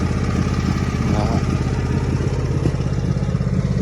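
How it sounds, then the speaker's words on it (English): A small John Deere tractor engine chugs steadily at close range, a continuous low mechanical drone with light clatter throughout. "So I'm using my small John Deere tractor to carry this"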